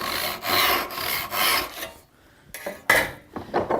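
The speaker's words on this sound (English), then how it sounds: "And then I'll go ahead and make my cross cut." A hand saw cross-cuts a mortise-and-tenon workpiece in wood, close and loud. Several rasping back-and-forth strokes come first, then a brief pause, then a few shorter strokes.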